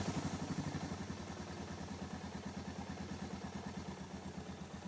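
Suzuki DR650 motorcycle engine idling steadily with the choke off, a close, even low chugging pulse running throughout with no talk over it.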